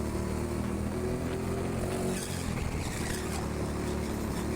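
Go-karts race around an indoor track at TeamSport Sheffield, a steady, loud engine drone that holds near throughout with slight shifts in pitch as the karts jostle to pass.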